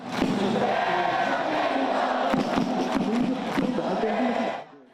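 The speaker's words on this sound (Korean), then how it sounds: "어둠이 내려앉은 광장에 붉은 악마들의 함성이 가득 울려 퍼집니다." A large crowd of street football supporters in a night-time plaza roars and chants together, loud and sustained, with sharp peaks of shouting before the noise cuts off at the end.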